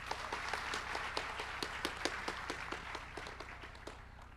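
Scattered, moderately distant clapping from a student audience at a university orientation session, with individual claps audible as loose, uneven bursts rather than a dense roar.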